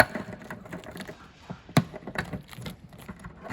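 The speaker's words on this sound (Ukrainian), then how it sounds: "Багажник у нас відкривається." Trunk latch of a Yadea RN electric scooter being unlocked with a key and opened: a run of small close mechanical clicks and rattles, with one sharper clack near the middle.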